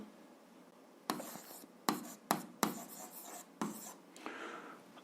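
Pen or marker strokes on paper or a board while a 7th-grade algebra solution is written out, five or six short scratchy bursts in an irregular rhythm against a quiet room, no talking.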